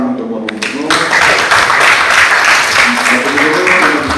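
A high school audience applauds the governor with loud, sustained clapping from a large crowd. Voices rise faintly beneath the clapping.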